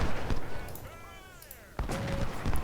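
Artillery fire in the Ultimate General: Civil War game at the First Battle of Bull Run: sharp cannon reports at the start and after a pause, distant booming with rumbling echoes between them, fairly faint overall.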